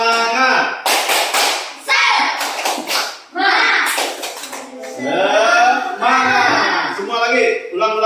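A group of children and an adult doing the rhythmic tepuk semangat clap, bursts of patterned hand claps mixed with chanting and shouting voices, loud and close.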